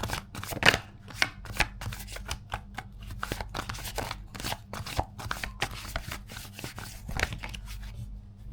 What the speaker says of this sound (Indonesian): Oke, kita kocok dua lagi.